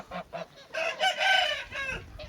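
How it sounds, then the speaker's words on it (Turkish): Roosters in a chicken coop cluck and call close by in quick overlapping bursts, one drawn-out crow-like call rising in the middle, with no talking. "Gelelim horozlara. Horozlar çok iyiler."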